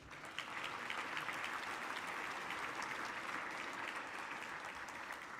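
At an awards celebration for teachers, the audience gives itself a full round of applause: a thick, even wash of many hands clapping that holds steady from start to finish in a large room, with no voices on top.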